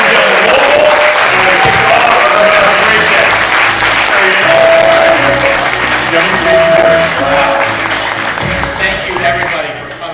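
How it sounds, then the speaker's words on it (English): A live audience at the DEMO Mobile tech conference applauds warmly and steadily for several seconds, dense clapping filling the hall with voices and cheers mixed in, tapering slightly near the end. "how about a big, warm Demo round of applause to Erick Schonfeld."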